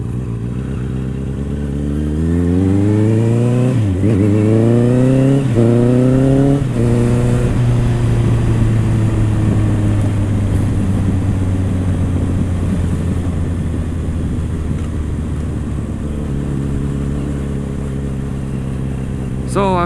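A Honda CBR 650 R motorcycle on a ride, its engine revving up through several gear changes in the first seconds and then holding a steady, loud drone close by, with wind rush throughout.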